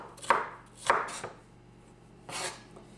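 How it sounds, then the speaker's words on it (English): Knife rough chopping bell peppers on a cutting board for a Creole jambalaya: a few sharp, close thuds spaced irregularly, with a pause before a final chop. "I'm just rough chopping it."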